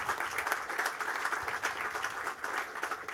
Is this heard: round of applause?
yes